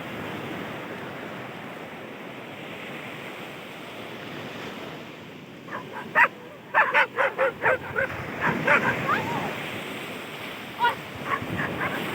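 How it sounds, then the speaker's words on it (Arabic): Several dogs bark at a seaside spot in Alexandria. A run of sharp, close barks comes in quick bursts midway over steady roaring surf and wind, then a few scattered barks follow. "هجوم الكلاب"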